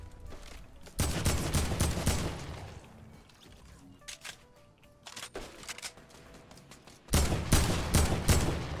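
A new AK rifle fires in a shooter video game, loud sustained automatic bursts at the start and end with sparser shots and clatter between, close and dominant.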